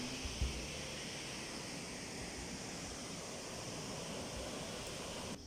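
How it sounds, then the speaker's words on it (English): Waterfall at Baizhang gorge in China, a steady broadband roar of falling water that stays constant and close throughout with no talking. "We found a bonus waterfall"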